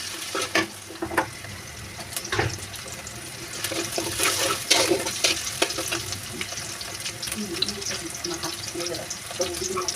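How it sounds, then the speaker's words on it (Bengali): Meat for haleem fries in a pot with bay leaves, a steady close sizzle broken by repeated scraping and clattering stirs of a spoon against the pot. A voice murmurs faintly now and then. "এখন মাংসটা রান্না করবো"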